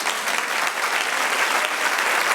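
A church congregation applauds during a sermon, a thick, continuous wash of many hands clapping together at steady volume, close and enveloping.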